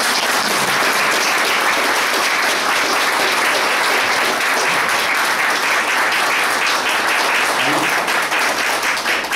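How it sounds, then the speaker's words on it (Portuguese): An audience at a charity association gathering breaks into loud, continuous applause, many hands clapping densely and evenly throughout without letup. "Eu queria uma salva de palmas para Maria."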